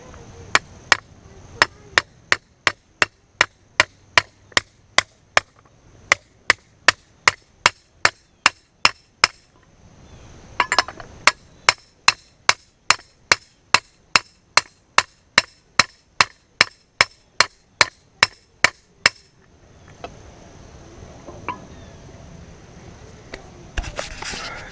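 Dozens of sharp, evenly spaced metallic strikes drive a bearing into a Raptor 660 front wheel through a socket, in three long runs of steady hammering with brief pauses between.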